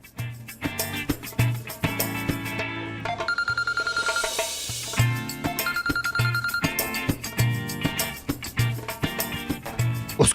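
A mobile phone ringing with an incoming call, a loud repeating melodic ringtone with a steady pulsing beat and bright tonal phrases that continues throughout with no talking.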